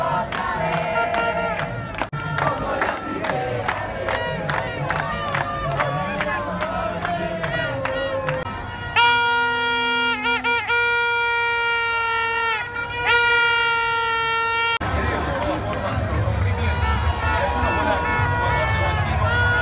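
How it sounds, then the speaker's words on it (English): An enthusiastic crowd of Uruguayan football spectators in Montevideo, outside an administration office building before a World Cup game, chants and shouts with rhythmic beats, while a tonal horn or song blares midway. "a small but enthusiastic crowd of Uruguayan spectators got ready for the game"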